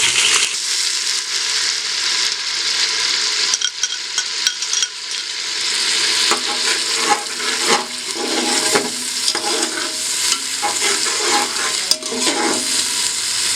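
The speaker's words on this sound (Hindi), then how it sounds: "मैंने अनियन पेस्ट इसमें ऐड कर दिया है, और अनियन का कलर जो है वो चेंज होने तक इसको पका लेंगे।" Onion paste for mash dal frying in a pan, a loud, continuous sizzle and crackle with stirring scrapes and bubbly spatters throughout, no speech.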